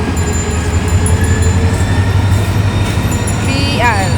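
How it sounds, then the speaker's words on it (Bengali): A freight train passes close by with a loud, steady rumble of wagons rolling over the rails, and a brief wheel squeal rises near the end. "এই যে ট্রেন, এই যে ট্রেন যাচ্ছে"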